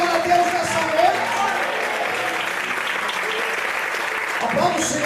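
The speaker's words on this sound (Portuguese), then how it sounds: "Você pode aplaudir a Deus nessa noite?" A church congregation applauds God during a worship service, a brief, steady wash of clapping with voices mixed in throughout.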